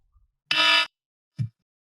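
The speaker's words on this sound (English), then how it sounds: "Oh, alarm!" A short electronic alarm buzzer blares once, loud and harsh, for about a third of a second, followed a moment later by a brief low thud in otherwise quiet surroundings.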